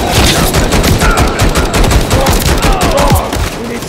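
Dense, loud gunfire from a Call of Duty Modern Warfare III battle, rapid automatic bursts and overlapping shots filling the whole stretch with no pause, layered over a busy combat mix.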